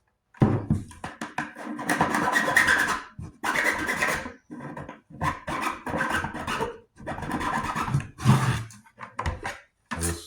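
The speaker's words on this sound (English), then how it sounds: "So I'm basically just taking the old chainsaw" A chainsaw file rasps back and forth against the edge of a hole in a plastic chicken water cup, clearing burrs in a series of short, close strokes with brief pauses between.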